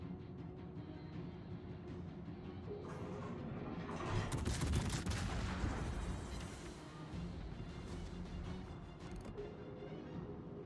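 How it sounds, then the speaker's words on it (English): Secondary guns of the battleship Nagato blazing in World of Warships, a rapid rattling fusillade of distant shots that swells to a heavy burst of gunfire in the middle, then eases back to steady firing. "Nagato is just sitting there with secondaries blazing."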